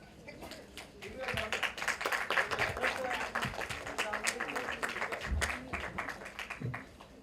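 Audience applause at a Hindi film trailer launch event, a steady crowd clapping that holds for several seconds at moderate loudness, with voices and background chatter mixed in.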